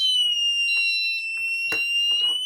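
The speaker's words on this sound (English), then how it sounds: "the manual call point alarm" A Hikvision wireless fire alarm sounds continuously after its manual call point is activated, giving a loud, steady high-pitched electronic tone with faint background noise under it.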